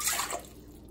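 Water pours into a bowl of cake mix during home baking, a brief splashing gush that fades into a soft trickle, fairly quiet and close.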